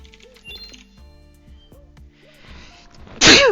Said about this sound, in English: Sorry, I had another sneeze coming